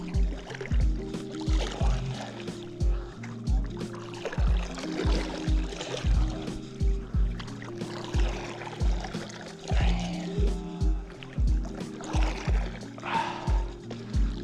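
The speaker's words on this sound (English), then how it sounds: "So now let's do reverse sweep strokes and we'll see how it goes." Reverse sweep strokes from a paddle on a Bluefin Cruise 10'8" paddle board make rhythmic, repeated water swishes and splashes at a steady pace, moderately close.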